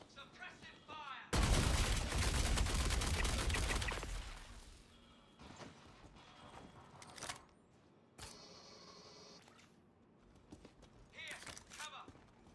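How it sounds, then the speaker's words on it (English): Rapid burst of suppressive gunfire in a video game, loud and dense for a few seconds, then fading into scattered sharper shots, clicks and voices calling out. "Suppressing fire!"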